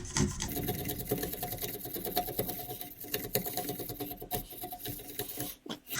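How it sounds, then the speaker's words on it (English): Scrap wood being shaved down by hand to form a cross halving joint for a stackable bar stool: close, steady rasping strokes in a dense, rapid rhythm with no talking. "We'll just shave off the top of the wood."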